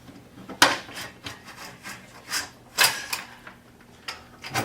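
A RAM laptop mount tray is pushed and snapped back together, giving a series of sharp plastic-and-metal clicks and rubbing scrapes at irregular intervals, close by, with no talking.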